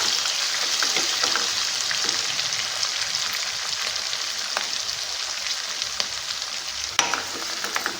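Onion pieces frying in a pan for cabbage curry, a continuous close crackling sizzle with scattered pops and occasional stirring clicks, and no voices.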